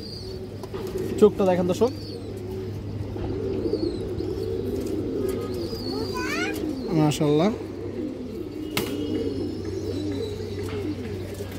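Large domestic pigeons for sale coo a few times nearby, soft rolling warbles scattered across the stretch beneath someone talking continuously.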